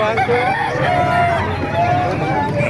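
A rooster crows over a steady crowd hubbub at a chicken market in Calumpit, Bulacan, with a drawn-out call rising above murmuring voices nearby.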